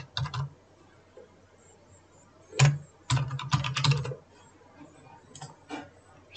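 Typing on a computer keyboard while C# code is written, in scattered short bursts of close key clicks separated by quiet gaps.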